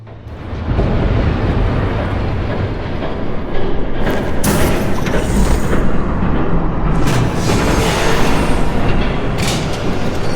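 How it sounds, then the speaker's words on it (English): A loud video game train rumbles past close by, a steady heavy roar with bursts of hissing and clatter that holds strong throughout. "There's a train coming."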